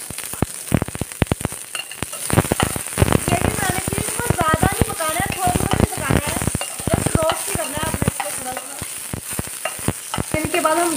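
Chopped onion and garlic fry in a hot pan for a dhaba-style tomato gravy, with a loud continuous sizzle broken by clattering stirring strokes throughout.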